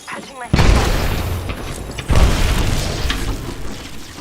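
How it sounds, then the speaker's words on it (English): Two heavy booming blasts from a grenade in the game Apex Legends, the first about half a second in and the second near two seconds, each followed by a rumbling decay. "Grenade"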